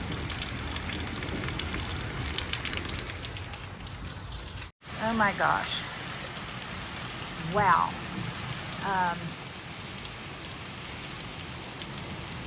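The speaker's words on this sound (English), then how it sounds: "But the rain continues here on the prairie." Heavy rain falling on the prairie during evening traffic hour, a steady dense hiss throughout, with a person's brief exclaimed reactions over it.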